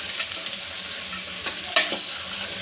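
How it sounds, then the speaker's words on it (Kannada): Washed sprouted beans sizzle steadily in a hot pan for a sambar, with a continuous loud hiss and a brief sharper crackle of stirring partway through. "ಸ್ವಲ್ಪ ಈಗ ಇದನ್ನು ಸ್ವಲ್ಪ ಫ್ರೈ ಮಾಡ್ಕೊಳ್ಬೇಕು"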